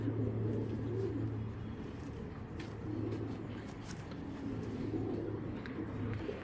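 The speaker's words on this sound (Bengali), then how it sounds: "দেখলে ভয় করে, দেখেন মাথা যে বিশাল বড় মাথার কবুতর।" Large-headed pigeons cooing in repeated low, rolling calls that swell and fade in a regular rhythm, close by, over faint background hum with no speech.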